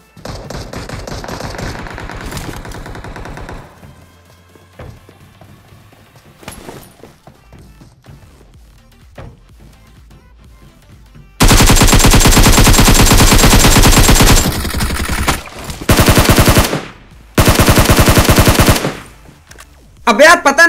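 In the PUBG video game, bursts of rapid automatic gunfire are loud and dense and arrive in several clustered volleys. Quieter stretches of footsteps and faint in-game sounds separate the volleys.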